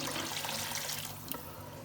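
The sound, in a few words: water being poured into a cooking pot for chicken mandi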